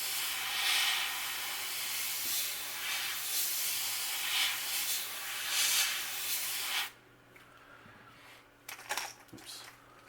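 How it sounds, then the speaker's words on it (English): Spray paint hisses onto a stencil over a crankbait lure, a steady, loud airy rush lasting several seconds before cutting off, followed by quieter handling clicks and faint rustling. "Again, spray more on the stencil"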